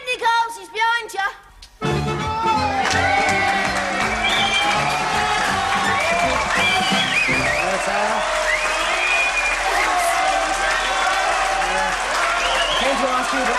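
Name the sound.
audience applause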